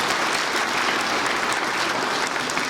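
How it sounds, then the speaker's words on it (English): An indoor audience claps in a steady, dense round of applause, loud and unbroken for a few seconds. "A round of applause for judgment"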